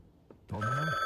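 A telephone ring cuts in after a quiet lead-in, a single sustained electronic tone with a warbling low sweep and a steady high overtone, loud and close with no voices.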